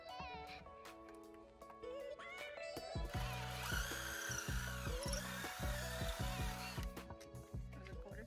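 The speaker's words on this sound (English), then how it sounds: "So this is just drill, hammer drill" A hammer drill whines and rattles in bursts, starting and stopping, its motor pitch rising then holding steady, close and fairly loud.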